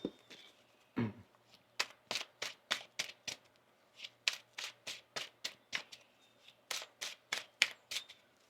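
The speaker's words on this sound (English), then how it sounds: "One more shuffle here." Rapid riffle-shuffles of a tarot deck, a dozen or so crisp bursts in quick succession, close and fairly soft, with a brief tap near the start.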